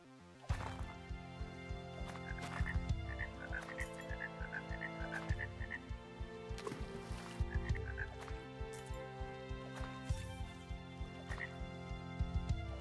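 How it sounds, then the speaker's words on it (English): Cartoonish frog croaks from the garden game Pesticides Not Required pop up repeatedly over a steady looping music bed, each croak short and fairly loud, with no talking. "frogs eat insects and they're always in the garden"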